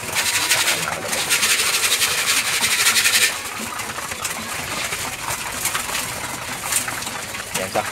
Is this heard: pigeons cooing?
yes